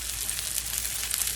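Beef and tofu patties sizzle in oil in a pan with a steady, close, bright crackling hiss and small popping bursts.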